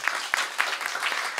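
A live audience claps to welcome a singer at an outdoor village music venue in Taiwan, a steady wash of applause with a few sharper claps standing out, fairly close and sustained throughout.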